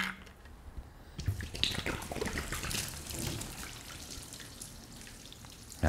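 Water from a spray runs and splashes off waxed car paint in an uneven stream, with irregular splatters and drips, fairly close and moderately quiet, with no talking.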